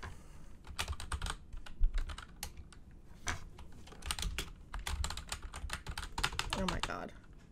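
Rapid, uneven keystrokes clatter on a computer keyboard in quick bursts, close and fairly quiet.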